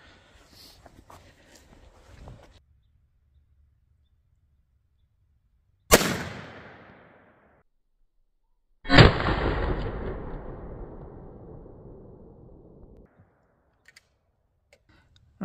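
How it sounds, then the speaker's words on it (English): A .17 HMR rimfire rifle fired into ballistic gel gives a sharp, loud crack, followed a few seconds later by a second heavy burst that rings and decays slowly, with quiet stretches around both. "I'm going to swing around to the other side for the last shot, the 17 HMR"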